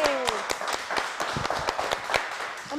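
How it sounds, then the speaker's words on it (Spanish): Welcoming applause for arriving guests at a lively Spanish-speaking gathering, several close, distinct claps spaced irregularly over a short stretch, with a faint tone sliding in at the start. "un aplauso"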